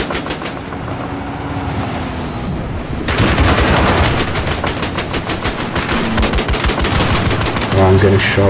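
Heavy gunfire in Battlefield 4 on the Paracel Storm map, loud continuous automatic bursts and rapid shots crackling close by, intensifying midway with dense repeated reports over a rumbling background.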